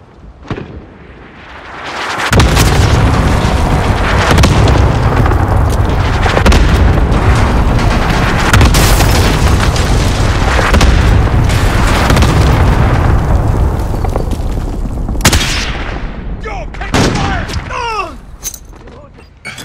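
Loud, sustained rumbling blasts from a close airstrike in Call of Duty Modern Warfare, roaring continuously for most of the stretch before tapering into scattered sharper cracks near the end.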